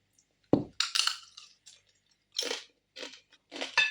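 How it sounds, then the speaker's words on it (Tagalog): Dried squid crunches between the teeth in a close, quiet setting, one sharp initial bite followed by a handful of brittle chewing crunches spaced across a few seconds. "Crunchy na crunchy yung pusit, dried pusit."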